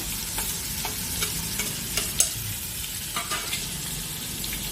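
Spring onions sizzling in a pan with crushed ginger and garlic while being stirred, a steady close frying hiss broken by soft scraping strokes of a spoon, with no talking.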